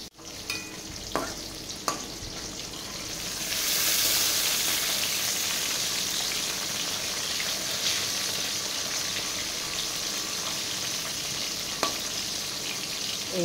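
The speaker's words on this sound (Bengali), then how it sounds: "এইভাবে প্রথম করছি আমি পটল ভাজা" Sliced pointed gourd sizzles steadily in hot oil in a home kitchen pan, with a few sharp scraping stirs of a spatula near the start before the frying settles into a loud, even hiss.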